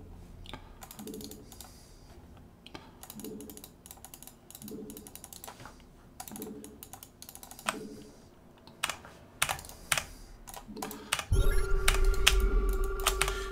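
Keystrokes on a computer keyboard during a StarCraft-style strategy game, in short rapid bursts of clicking taps repeating every second or so, followed by a louder steady hum near the end.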